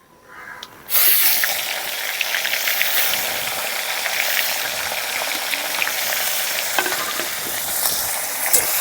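Aar fish heads drop into hot oil, setting off a sudden loud burst of sizzling that settles into a steady, close, hissing fry with scattered pops.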